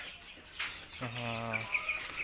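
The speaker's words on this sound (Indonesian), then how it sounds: "Tuh ayam-ayam juga sudah saya kasih makan" Chickens clucking after being fed: a drawn-out harmonic cluck and softer chirps close by, over faint background noise.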